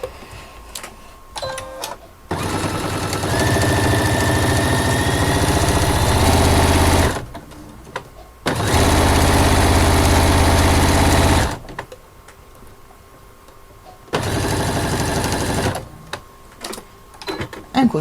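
A sewing machine stitches fabric for a notebook cover, running in three loud steady bursts with short stops between them and a few soft handling sounds at the start, close up and without talking.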